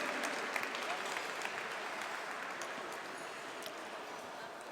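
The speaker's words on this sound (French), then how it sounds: "on va l'applaudir" Steady applause fills a business association's anniversary gala as a winner collects a trophy; broad crowd clapping holds at moderate, even loudness for several seconds, with no voices over it.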